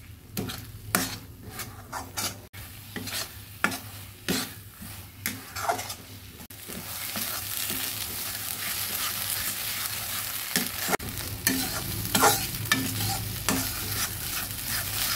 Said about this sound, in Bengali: এবার ভালোভাবে নেড়ে নেড়ে শুকিয়ে নেব।